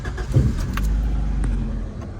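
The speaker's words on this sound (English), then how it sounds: "Turn the car on." A Honda Integra with a faulty brake light is started: a low engine rumble builds and holds steady after a brief crank, with faint key or interior clicks, close and fairly loud, no voices.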